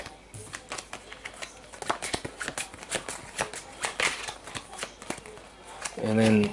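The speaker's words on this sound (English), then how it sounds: "I got to shuffle these guys back." Cards from the zombie board game Dawn of the Zeds being shuffled by hand at a table, a run of quick papery riffles and snaps, with someone talking faintly now and then.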